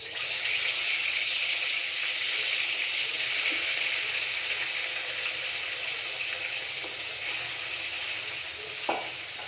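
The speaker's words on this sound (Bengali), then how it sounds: "এদিকে মাছগুলো, পমফ্রেট মাছগুলো ওইটাই আমি তেলে দিই" Pomfret fish fry in hot oil with a steady, bright sizzle that holds for several seconds, with a faint clink of a utensil near the end.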